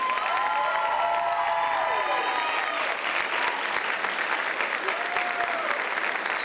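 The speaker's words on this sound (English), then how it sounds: "really deserve a tremendous round of applause" Sustained loud applause from a large crowd at a high school spring band concert, steady clapping throughout with a few whistles and cheers rising above it.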